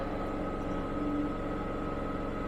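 Steady loud milling machine drone cutting metal, with a constant whine and rough grinding texture from too deep a cut, continuous throughout with no pauses or voices.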